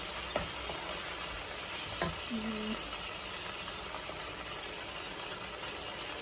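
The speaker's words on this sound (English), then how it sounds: "Saute this until the onion is soft, cooked." Chopped onion sautéing in a pan while making spicy curry chicken feet gives a steady, close sizzle that runs throughout, with a few sharp utensil clicks from stirring and no talking.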